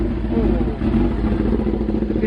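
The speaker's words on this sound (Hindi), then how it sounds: "एग्जॉस्ट नोट एक बार इसका भी सुन लो" A motorcycle fitted with a Race Fit Crawler MotoGP-style exhaust rumbles with a deep, steady exhaust note close by, with a brief dip partway through, alone without talk.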